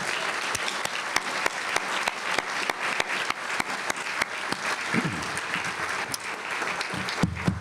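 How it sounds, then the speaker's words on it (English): A dinner crowd at the John Marshall event gives the production ensemble a round of applause: dense, sustained clapping with a few loud close claps standing out, and a voice speaking briefly near the end. "Let's give them all a round of applause again."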